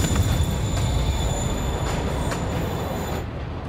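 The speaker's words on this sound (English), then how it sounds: "Train's moving." A moving train in the Spider-Man Remastered video game gives a continuous loud rumble of rolling wheels with a high steady squeal and faint rhythmic clacks.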